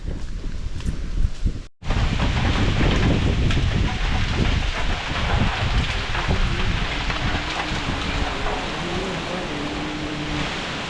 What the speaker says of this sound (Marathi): पाऊस भरपूर पडतो आहे